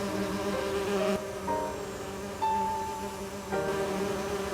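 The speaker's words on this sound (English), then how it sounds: "I need to subdue the bees first. They'll do me in for sure if I disrupt their artificial home." Bees buzz steadily in a hive scene from the Nintendo Wii game Agatha Christie: And Then There Were None, a continuous droning hum with shifting pitch over a low ambient background.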